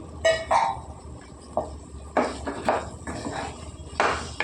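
Cauliflower stirred into oil in a cooking pan with a spoon, giving scattered metallic scrapes and clinks at an irregular pace over a low background hiss, fairly close, with no voices.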